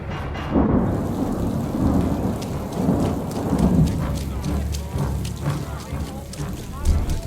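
A heavy rain downpour with rumbling thunder fills a dramatized stormy scene around a church, a steady loud wash running throughout while voices talk over it.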